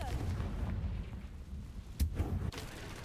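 In Hogwarts Legacy, a fiery Confringo spell bursts with a sudden booming blast, followed by a second sharp crack a moment later over a steady low rumble of game ambience.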